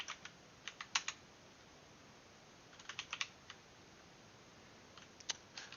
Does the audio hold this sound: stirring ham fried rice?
no